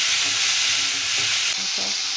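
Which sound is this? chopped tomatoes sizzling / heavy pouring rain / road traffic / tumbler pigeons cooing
chopped tomatoes sizzling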